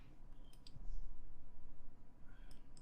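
A few faint, crisp mouse button clicks at a computer during modded Minecraft play, sparse and soft over a low background hum.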